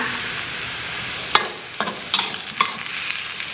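Mixed vegetables sizzle steadily in a hot pan while a spatula stirs them, adding a few scraping, knocking strokes over the loud frying hiss, with no talking.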